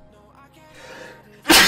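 A single sharp, loud sneeze bursts out at the very end after a few seconds of quiet, faint background tones.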